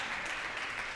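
A church congregation applauding, a brief burst of dense, steady clapping from a crowd that fills the space evenly.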